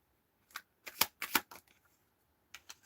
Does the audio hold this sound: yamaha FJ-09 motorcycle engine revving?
no